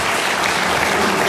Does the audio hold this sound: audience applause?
yes